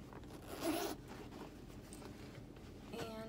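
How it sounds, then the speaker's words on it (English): The zip top closure on a Kate Spade canvas bag with rolled leather handles is pulled open in a quick, close, scratchy zipping run, with a fainter rasp at the end. "And then it's a zip top closure."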